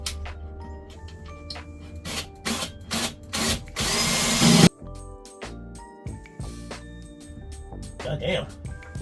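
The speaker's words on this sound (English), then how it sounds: "This is a spot welding drill bit that I got off Amazon." A power drill with a spot weld drill bit whines through VW Golf body metal in short bursts, then grinds steadily for about a second, with clicks and handling noise between, close and loud.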